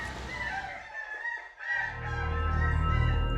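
A goose honking from inside a small house in an outdoor sonic art installation in a public space, with tonal, honk-like calls, a gap in the middle, then a louder, rougher stretch, with no speech.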